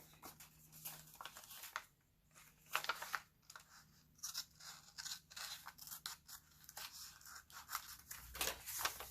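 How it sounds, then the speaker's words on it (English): Scissors snip across the flap of a paper junk mail envelope in a run of uneven cuts, crisp and close, with brief pauses between strokes and no talking. "So now I'm actually going to cut this entire flap right here."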